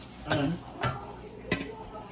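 Ribs and cabbage being stirred together in a cooking pot, with three distinct scraping, clattering stirs spaced about half a second apart over a low background hiss.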